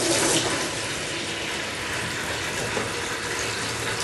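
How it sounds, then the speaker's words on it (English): Steady rushing cold water pours continuously into a plastic bucket, a broad hiss like a tap filling a container, with no voices. "what we need is an empty polythene bucket, preferably white, and we fill it with cold water"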